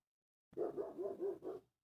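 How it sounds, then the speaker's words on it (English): A single dog barks about five times in a quick, even run, fairly close and alone against silence. "You hear the dog barking?"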